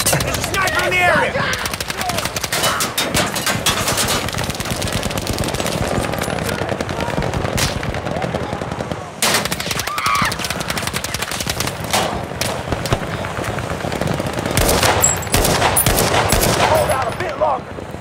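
Battlefield V multiplayer battle with machine gun fire: rapid, sustained bursts of automatic gunfire, loud and close, with scattered heavier shots and brief pauses across the whole stretch.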